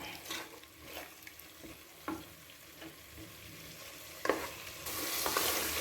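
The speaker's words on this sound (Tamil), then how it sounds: "இப்போ இதை நம்ம நல்லா வதக்கணும்." Chili paste and onions sautéing in a pan for Ambur chicken biryani, with a soft sizzle broken by several scraping stirring strokes, the frying swelling louder toward the end; no one speaks.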